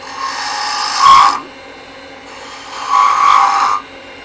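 A wood lathe taking a peeling cut on a small wooden snowman ornament, two scraping, rasping bursts of the tool against spinning wood with a steady motor hum running between them.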